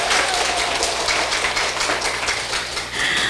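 An audience at a law-class lecture gathering applauds in a dense, continuous wash of clapping that stays loud and even throughout, with no clear speech over it.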